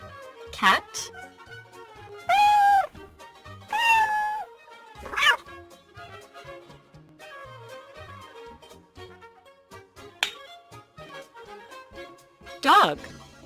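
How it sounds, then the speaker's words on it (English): A cartoon cat meows a few times in short bursts, spaced out among other brief animal and effect sounds in a children's farm animal sequence. "Cat."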